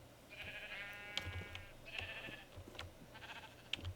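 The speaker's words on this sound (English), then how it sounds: "He's going after the sheep." Sheep in Minecraft with the PneumaticCraft mod bleat several times in short wavering calls, faint and scattered over a low background with small clicks.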